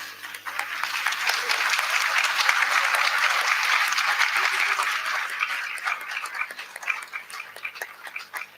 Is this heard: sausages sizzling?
no